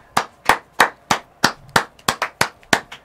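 Sharp hand claps, about eleven in a slightly uneven rhythm, close and fairly loud, with no one talking.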